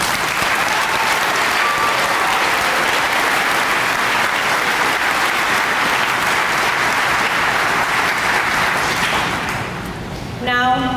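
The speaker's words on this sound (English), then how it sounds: "let's celebrate each other with a big round of applause for the class of" A large graduation audience applauds the class of 2025 at a high school commencement, steady dense clapping filling about ten seconds at full loudness before thinning out near the end.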